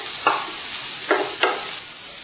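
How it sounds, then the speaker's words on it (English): Chopped onion sautés over a slow flame in a pan for seviyan upma, giving a steady close sizzle broken by three short scraping stirs, with no voices. "Now into it add about one chopped onion. And saute it in slow flame."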